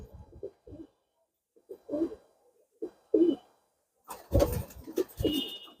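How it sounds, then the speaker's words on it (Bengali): Pure-bloodline Salara pigeons, a breeding pair of male and female, coo in short low bursts close by, with throaty calls repeating in uneven clusters and a brief higher scrape near the end. "দেখুন কবুতর"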